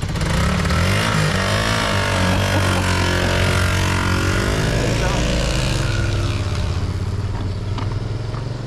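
A Moto Morini Xcape motorcycle engine runs loud and close, a steady low roar with rising and falling revs throughout.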